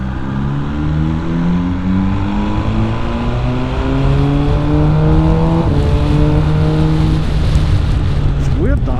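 A 2020 MV Agusta Brutale 1000 RR motorcycle engine pulls hard through the gears, its loud droning pitch climbing with each shift, while a rider talks over the engine.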